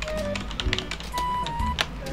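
Someone types on a computer keyboard during a random online video chat. Scattered quick key taps click in short bursts over a steady background hum and occasional tones.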